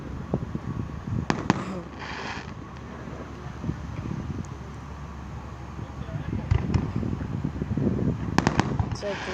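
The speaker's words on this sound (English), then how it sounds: "Oh, look at these fireworks, guys." July 4th fireworks pop and crackle from a middle distance, with scattered sharp bangs and glittery crackling over wind noise and faint background voices.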